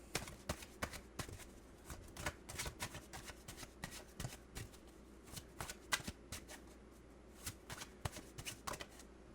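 Tarot cards being shuffled and drawn, a run of crisp riffling snaps and soft slaps in uneven bursts, close and quiet with no talking.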